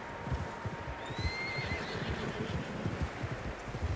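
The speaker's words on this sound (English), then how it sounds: "Horses, quite a few of them." Several horses neigh and whinny in the Red Dead Redemption 2 video game, set over steady clip-clopping hooves and outdoor ambience, with no talk.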